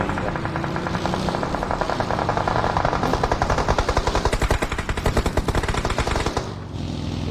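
Rapid automatic gunfire from the mobile battle-royale game PUBG Mobile rattles in loud, dense bursts, peaking in a long sustained volley in the middle before trailing off, with no speech.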